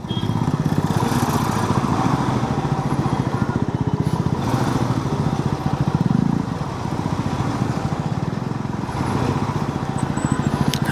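A motorcycle engine drones steadily throughout a long-distance ride on the road, loud and close, with a constant rumble and slight shifts in pitch.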